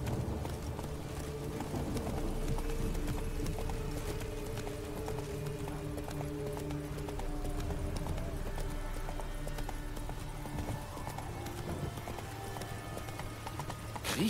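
Galloping hooves of Geralt's horse Roach in The Witcher 3: Hearts of Stone, a steady clip-clop running throughout under rain-free game ambience and music, with an occasional whinny.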